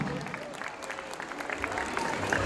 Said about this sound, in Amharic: እባካችሁ ሞቅ ያለ ጭብጨባ።